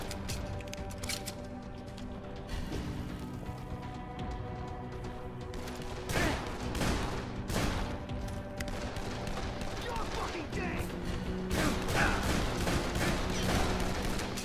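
Rapid bursts of gunfire in Dead Island on PS4 crack repeatedly over a steady tonal background, some shots louder and closer than others.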